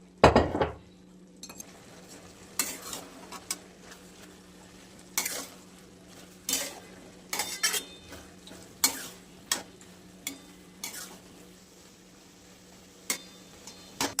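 Chopped spring onion greens are cooked village-style, with a low steady sizzle under repeated sharp clinks and scrapes of a spoon against the pan, close and unhurried, with no talking.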